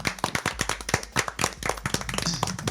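A handful of people clap close by to welcome speakers at a session, producing sharp, distinct individual claps in an irregular rhythm rather than a dense wash.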